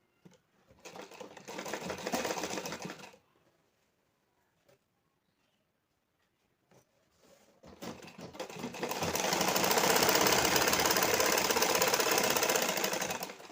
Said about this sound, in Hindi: उसको इसी सिलाई पर मुझे चला देना है, मशीन चलाना है